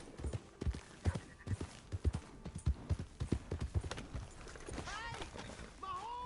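A horse's hooves clip-clop in a quick, steady trotting rhythm, moderately close, gradually fading as the animal moves off, while people shout over it near the end.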